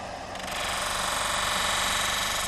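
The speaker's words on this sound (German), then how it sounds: "Mit den Blaupliestscheiben und dem aufs Leder aufgetragenen Naxos-Schmirgel bekommen die Messer eine Vergütung" Knives are blue-polished in the traditional Solingen manner, pressed against a spinning polishing wheel with Naxos emery on leather. The steel makes a loud, close, rough grinding roar that swells in within the first half second and holds steady.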